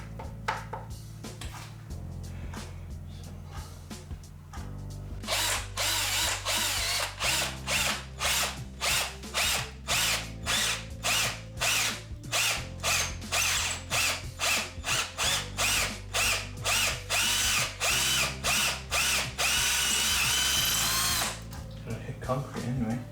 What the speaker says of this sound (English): I'm going to attempt to drill down at a steep angle